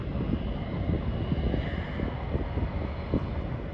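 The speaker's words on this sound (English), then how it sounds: "JetBlue arrival." JetBlue Airbus A321 in Boston Red Sox livery arriving at night, coming in from Newark; a continuous loud jet engine rumble with steady low-end roar, no voices.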